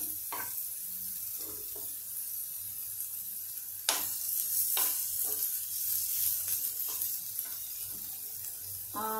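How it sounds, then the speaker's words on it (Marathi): Chopped onion sautéing in a pan for a stuffed brinjal dish, a steady low sizzle with a few sharp scrapes and clinks of the spoon, one louder knock near the middle, and no voices. "हा कांदा थोडासा छानपैकी आपण परतून घेऊया"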